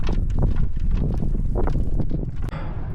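Strong wind buffets the microphone in a dense, roaring rush with gusty surges, loud and close throughout, at Big Bend National Park, Texas.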